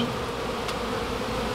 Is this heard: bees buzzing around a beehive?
yes